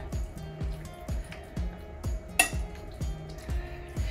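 Parmesan cheese mixed into ricotta and other casserole ingredients in a bowl for a keto ranch chicken, broccoli, bacon and pasta bake, with a regular rhythm of soft wet squelches and light utensil taps against the bowl.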